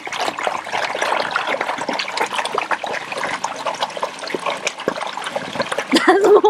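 Water gushes steadily out of a newly laid pipe in a freshly dug channel on a homestead, a close, continuous rushing splash that swells louder near the end.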